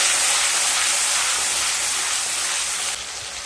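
Ginger paste and tomato paste sautéing in a pan give a steady, fairly loud broadband hiss of frying that fills the whole stretch, easing slightly near the end, with no voices.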